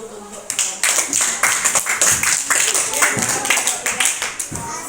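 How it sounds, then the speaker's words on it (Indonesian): A classroom of children claps for a group in class, a quick scattered burst of applause that swells and stays steady for several seconds, fairly close. "Tepuk tangan dulu untuk kelompok"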